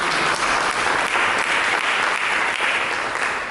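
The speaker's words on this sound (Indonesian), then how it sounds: "Berikan tepuk tangan bagi Yesus." Congregation applauding during a church sermon, a thick continuous wall of clapping from many people that stays loud and even throughout.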